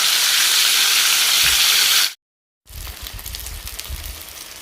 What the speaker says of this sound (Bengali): এদিকে আমার তেলটা গরম হয়েছে এবার আমি মাছটা ছেড়ে দিই দুটো দুটো করেই ভাজি